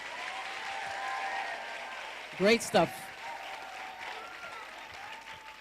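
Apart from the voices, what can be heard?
audience applause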